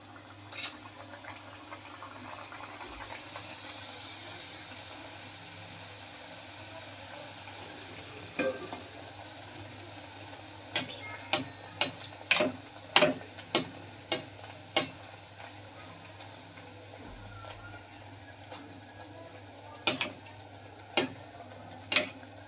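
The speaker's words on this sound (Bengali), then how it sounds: "এখন পুরিগুলো ছেড়ে দেব গরম তেলে" Steady hiss of lentil-stuffed dal puris frying in hot oil, with a series of sharp clacks and scrapes from a utensil in the pan; no talking.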